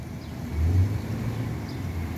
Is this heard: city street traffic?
yes